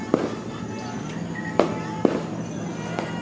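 Fireworks go off in the distance as separate sharp bangs, four cracks spaced irregularly over a low steady background hum, moderately faint with no talking.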